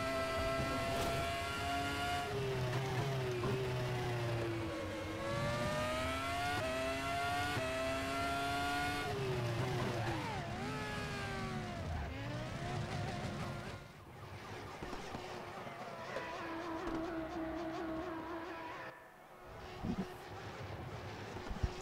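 A race car engine in the Raceroom racing game revs steadily with rising and falling pitch as the car shifts gears, then winds down and drops off on the approach to the pit stop.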